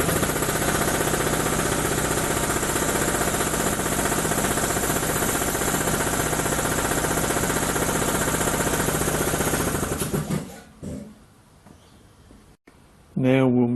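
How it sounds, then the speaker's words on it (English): Large 8 cubic foot industrial grade air compressor running: a loud, steady mechanical drone with rapid pulsing that continues for about ten seconds, then cuts out leaving a quieter room with a few clunks. "We'll do the big 8 cubic foot industrial grade compressor first."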